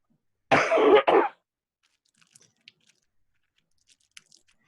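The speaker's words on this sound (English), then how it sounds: "Because you just coughed." A single sharp cough in two quick bursts stands out near the start, followed by near silence with a few tiny clicks and ticks.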